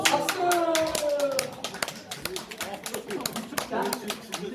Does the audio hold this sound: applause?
yes